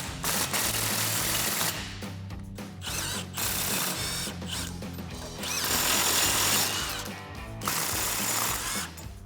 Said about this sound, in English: we're gonna grab our impact and 7/8 socket and tighten this down in an X pattern